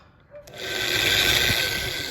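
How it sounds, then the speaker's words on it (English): Holes drilled into a cigar box guitar during fretless build assembly: a steady, loud whirring drill grind starts after a brief pause and runs continuously. "So all we're doing now is basically drilling the holes and getting things ready for final assembly now."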